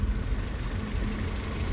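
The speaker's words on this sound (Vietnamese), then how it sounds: "Động cơ nổ rất êm." Original, unmodified engine of a Toyota seven-seat car idling smoothly, a steady low rumble that holds even and close throughout with no speech.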